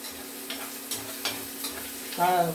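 Onions and peanuts sautéing in a pan for village-style kara bath give off a soft continuous sizzle, with a few short scrapes of a spatula and a louder stirring burst near the end.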